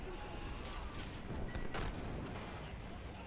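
Panzer IV tank fire and explosions in the video game Easy Red 2, a dense, loud battle roar of booming blasts and rumble filling the whole clip, with a sharper burst near the middle.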